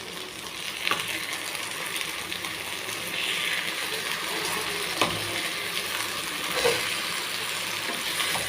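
Green chicken frying in a pan with its second side down, giving a steady close sizzle with bubbling crackle, broken by a few soft clunks as the pieces are moved.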